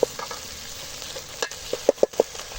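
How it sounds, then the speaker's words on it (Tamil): Tomatoes being stirred and mashed in a frying pan for a dried-fish curry, with scattered utensil scrapes and clinks over a low, steady sizzle, growing busier toward the end. "தக்காளி போட்டு நல்லா மசிச்சு விட்டுக்கலாம்"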